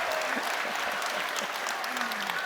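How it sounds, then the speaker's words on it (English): A crowd at a political rally in British Columbia claps steadily for a boy, dense applause filling the moment with a few faint voices underneath. "Give him a round of applause, everybody."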